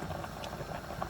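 Pasta boiling in a pot, a faint, steady bubbling patter with small irregular pops throughout, heard alone at a moderate distance.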